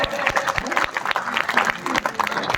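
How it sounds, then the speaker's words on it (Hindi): An audience at a Hindi comedy poetry show claps, a brief, moderately dense burst of applause mixed with crowd murmur. "तालियां कमजोर है।"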